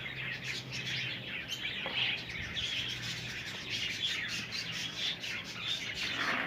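Budgies, a yellow spangle male and blue spangle female, chirp and squawk inside a cage during egg hatching time, repeated bright close calls over a soft steady background hiss.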